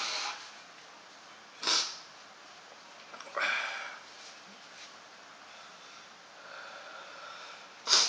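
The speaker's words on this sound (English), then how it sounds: "Blow my nose now." Close, breathy nasal blows and sniffs, a couple of short bursts separated by quiet pauses, after eating Carolina Reaper pepper powder.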